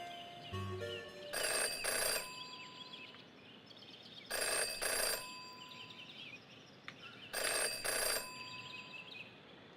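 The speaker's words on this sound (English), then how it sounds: "Jenny had learned never to ignore a ringing phone." A telephone in a detective video game rings in three evenly spaced bursts of bright trilling bells, with faint game ambience between rings.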